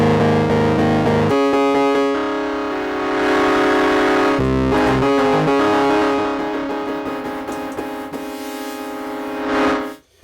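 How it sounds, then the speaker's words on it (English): Heavily distorted DSI Prophet 6 synth tones, harmonically rich and buzzy, shifting pitch through a few sustained phrases before cutting off abruptly at the end. "Here's a distortion"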